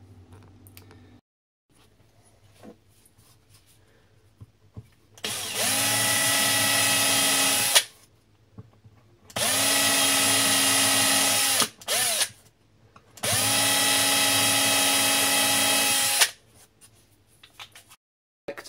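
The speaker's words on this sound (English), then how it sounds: "when we drill up to the flag, you can see the drill will not burst through the other side" Three long bursts from a power drill fitted with a pilot bit, boring into kitchen cupboard material while fitting a pelmet, each about three seconds of steady loud whine, separated by quiet pauses and a short blip.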